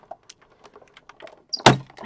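A die-cutting machine rolls plates through with soft clicks and creaks, then gives a louder thunk as the plates pass, all close by with no talk.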